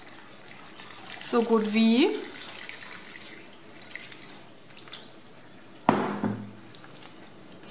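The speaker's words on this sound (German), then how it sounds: "Und jetzt leere ich da etwas Wasser drüber, sodass alles bedeckt ist." Water poured from above over plums in a pot for homemade plum syrup, a short pour whose tone rises as the pot fills, followed by a clink, while a voice speaks briefly.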